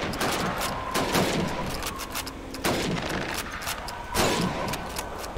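Rifle shots fired at helmet targets in the Call of Duty 2 video game: three loud, sharp cracks about every one and a half seconds, each with a short decaying tail over continuous game background noise.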